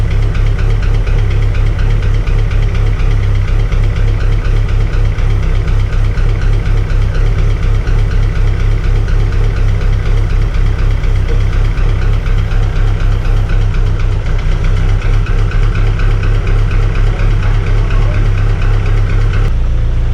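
Rebuilt Dodge Neon ACR engine idling roughly, a loud close drone with uneven, lumpy pulsing and a knocking texture that runs steadily for the whole stretch without talk.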